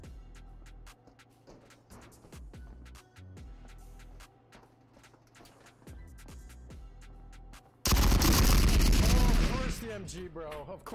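MG42 machine gun fire in the shooter game Marauders, close quarters aboard a ship: scattered sharp shots and short bursts at first, then a loud, sustained rapid-fire burst that dominates the final seconds.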